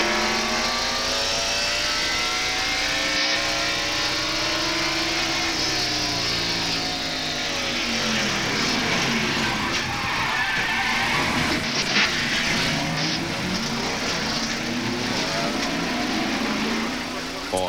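Stock cars race at North Wilkesboro in 1992, a steady, loud roar of V8 engines passing and revving continuously, with crowd and track ambience blended in and no talk over the engines.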